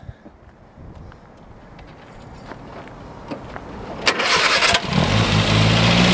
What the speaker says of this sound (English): I'll go ahead and fire this one up for you.